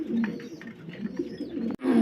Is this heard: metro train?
no